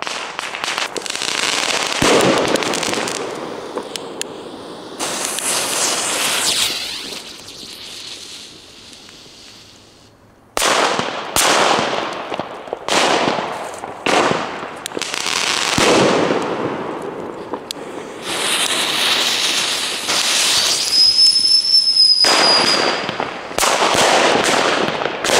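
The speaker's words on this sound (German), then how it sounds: "das sind die China-Böller D." China firecrackers and fireworks go off outdoors in loud, dense bursts of crackling bangs, with a brief lull near the middle before another rapid barrage, followed by a whistling shot late in the sequence.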